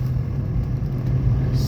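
Steady road traffic rumbles past near a large casino in Balibago, Philippines, a continuous low drone of many passing cars with no pauses, fairly loud and close, with no voices.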